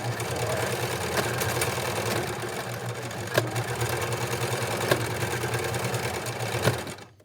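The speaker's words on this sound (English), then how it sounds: "Whatever sewing machine you have should have a back button. So I'm gonna go forward and backward quickly." A sewing machine stitches forward and backward quickly over elastic for a scrunchie, giving a steady close whirring drone with a few sharp clicks as the direction reverses.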